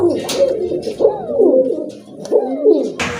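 Short-faced fancy pigeons at a bird sale coo in repeated rolling calls, close and fairly loud, with a brief rustle at the end.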